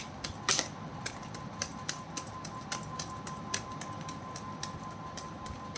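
Angel oracle cards shuffled during a full moon blessing reading, giving a run of soft, irregular papery taps and flicks, close and fairly quiet, with no voices over them.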